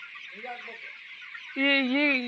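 Poultry chicks and chickens make short warbling calls and then a louder, drawn-out cluck at close range on a farm.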